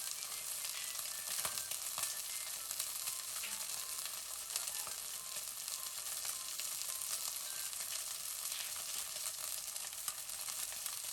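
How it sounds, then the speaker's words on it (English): Chicken pieces sizzle steadily in a frying pan after a splash of cooking wine, a dense, even crackle and hiss running throughout with small pops, close and moderately loud, with no talking. "I'm gonna add 1 tablespoon cooking wine in my frying pan."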